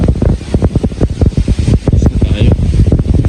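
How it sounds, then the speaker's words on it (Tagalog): Strong wind from Typhoon Rolly (Goni) buffets the microphone during the storm, loud rumbling gusts pulsing in quick irregular surges that roar close and unbroken throughout. "Malakas na ang hangin, malakas na ang bagyo."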